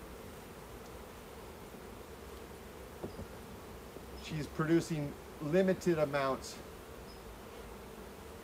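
Honey bees drone steadily around an open hive in Jasper while frames of dark honey are harvested, a low continuous hum with a person talking over it in the middle.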